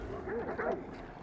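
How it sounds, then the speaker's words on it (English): A demonic dog in a hunting video game lets out a short, faint pair of yipping barks with a whimpering edge. "Look, demonic dog."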